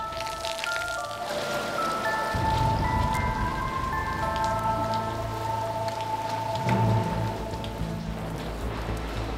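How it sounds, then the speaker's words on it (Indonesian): Heavy rain pours steadily and loudly throughout, a dense continuous wash with some tonal background sounds over it and no talking. "Ini hujan-hujan begitu."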